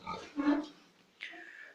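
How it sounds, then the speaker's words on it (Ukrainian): Sows grunting on a pig farm: a few rough, low grunts in the first half, then a higher squealing call near the end, close and moderately loud with no talk over them. "Такі свиноматочки мої."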